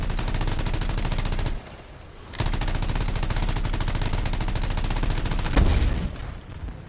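Rapid, continuous gunfire from a weapon in the video game Anthem: a dense, loud stream of shots runs almost throughout, pausing briefly once, then ends with a heavier booming hit.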